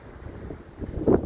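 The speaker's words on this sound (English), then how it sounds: "God, it's windy today." Gusty wind buffets the microphone outdoors on a building site where a double-storey playhouse is being put together, a low rumbling roar that swells and peaks near the end of the short stretch.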